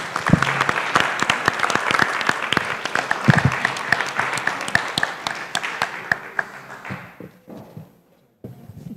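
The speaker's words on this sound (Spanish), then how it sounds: "por favor un último aplauso para ellos y ellas." Audience at a panel talk on Costa Rica's sexual diversity movement gives a final round of applause, lively and close with distinct claps and thuds, then thinning to scattered claps and fading to near silence at the end.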